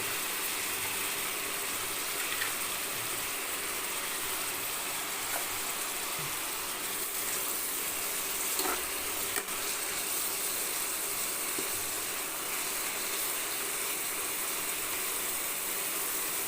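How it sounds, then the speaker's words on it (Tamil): Dried fish (karuvadu) frying in oil in a pan, giving a dense, even hiss that runs without pause. A few faint crackles and clicks rise above the continuous sizzle, with no voices. "அதை போட்டு எண்ணெயிலேயே கொஞ்சம் வறுத்துக்கலாம்"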